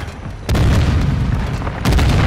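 A mortar or grenade blast in an online shooter game, a loud deep boom that starts suddenly and then rumbles, followed by a second heavy burst near the end.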